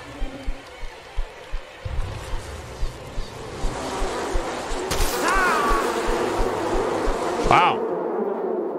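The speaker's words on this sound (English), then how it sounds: "Waking up to bees." A steady buzzing of bees fills the scene in the video game Mundaun, close and continuous under a windy, surf-like wash, with a few soft thumps and a brief whoosh near the end, and no talk.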